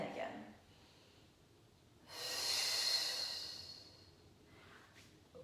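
A slow, breathy exhale during a Pilates arm sweep, a broad airy whoosh lasting a couple of seconds close to the microphone, with softer breath sounds before and after.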